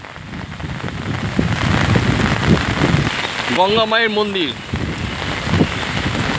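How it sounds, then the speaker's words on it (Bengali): Steady heavy rain pours down throughout a storm in Kolkata, with a voice speaking briefly partway through over the downpour. "প্রচণ্ড ঝড় বৃষ্টি হচ্ছে"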